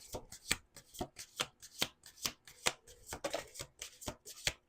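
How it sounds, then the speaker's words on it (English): A deck of cards being riffle-shuffled repeatedly, a quick run of crisp flutters and snaps in a steady rhythm, close by with no talking. "Last shuffle."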